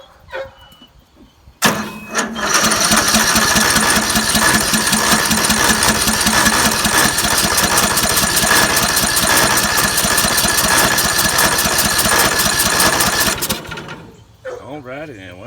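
Troy Bilt riding mower small engine cranking, then catching and running at a steady loud buzzing rattle for about twelve seconds before cutting off, close to the microphone.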